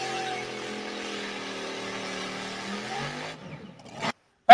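A drag racing car, one of several local cars including a Mini with a Chevrolet big block, makes a pass with a strong engine tone that climbs through the gears, then fades and cuts off abruptly.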